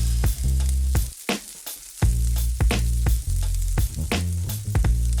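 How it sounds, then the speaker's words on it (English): Sofrito vegetables sauté in oil in a pan, sizzling steadily and loudly, with repeated sharp stirring scrapes breaking the hiss every half second or so. "We want to saute this for about 20 minutes or so, until our veggies are softened and browned."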